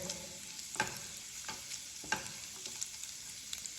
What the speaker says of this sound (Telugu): మంచిగా రోస్ట్ చేసేసుకుందాం, కొంచెం బ్రౌన్ కలర్లోకి రావాలి.